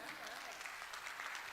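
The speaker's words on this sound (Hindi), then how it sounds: "ताली कम आई है इसका मतलब अनुमति नहीं है" An audience at a Hindi poetry gathering (kavi sammelan) gives faint, scattered applause, with a voice talking over the clapping throughout.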